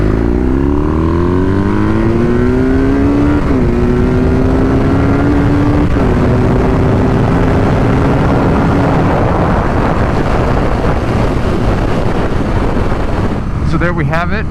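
A tuned 2023 BMW R nineT motorcycle revs hard on a dyno, loud and close, its engine note rising steadily through the gears before cutting off near the end.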